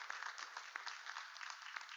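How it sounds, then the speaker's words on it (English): Faint, thin clapping from a small audience at a public safety forum, quiet and somewhat distant, a brief patter of hands. "can we get a round of applause?"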